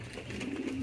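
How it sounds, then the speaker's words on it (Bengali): A Peshawari pigeon coos softly in a brief low burble, close by and alone. "আমাদের ফেশওয়ারির ডাকটা দেখেন একটু করে"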